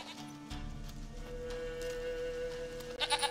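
A goat in the video game The Witcher 3 bleats in a wavering, nasal cry over a soft in-game ambient bed, and a second shorter bleat follows near the end.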